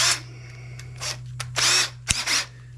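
A power drill drives tek screws into a fabricated metal stove pipe cap, giving several short whirring bursts with gaps between them and one sharp knock near the end, over a steady low electrical hum.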